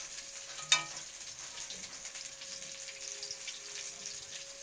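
Rohu fish frying in a pan gives a faint, steady sizzle with one sharp clack near the start, heard alone at low level against a constant background hum.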